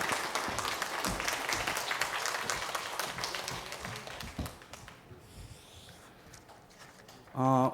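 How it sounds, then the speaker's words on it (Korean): A church congregation applauds at a Sunday service after a child receives an award. Busy, fairly close clapping runs for several seconds, then thins out and fades, and a voice comes in briefly at the very end. "박수로 축복하겠습니다."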